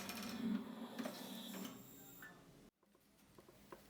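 Bandsaw blade setting machine ticking and clattering as it works around the blade, running steadily for a few seconds and then abruptly cutting out, leaving quieter mechanical noises afterward.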